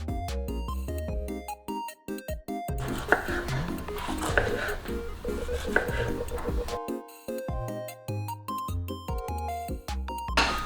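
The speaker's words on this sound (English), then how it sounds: "now I'm gonna slice up some strawberries" Strawberries being sliced with a knife on a cutting board, heard as a run of crisp, rapid chopping taps that pause briefly midway and then resume in a quick, uneven rhythm, close and clear.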